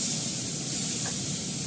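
Fish and onion frying in a pan, a steady broad hiss of sizzling oil that stays constant and fairly close throughout, with no talk.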